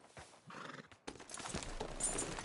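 A horse gives a short whinny amid hoof clops and rustling, quiet and brief, with a sharp break in the middle.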